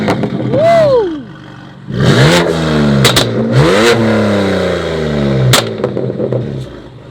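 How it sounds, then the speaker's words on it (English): A BMW M2 Competition (F87) engine revving loudly up close in several sharp bursts that rise and fall, with crackling pops between the revs. "he's gonna give us a little bit of revs to show us what it sounds like"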